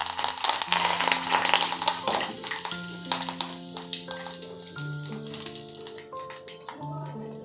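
Moringa leaves sizzle and crackle as they hit hot homemade ghee in a pan, a loud steady frying hiss with a tonal hum running through it and no talking.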